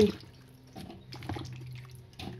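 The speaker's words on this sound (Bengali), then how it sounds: "সুন্দর করে লাউগুলো আমি ধুয়ে নিচ্ছি।" Bottle gourds rinsed under water in a kitchen, with soft close splashing and dripping in short bursts and a quiet trickle between them, and no voices.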